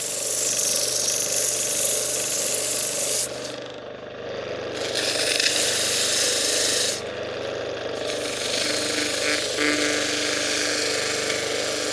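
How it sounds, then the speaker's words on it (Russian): Rusty flywheel from a Dnepr motorcycle engine being machined and ground, a steady broadband rasping and scraping that runs continuously, close and fairly loud, with two short breaks in the high hiss. "Точил маховик"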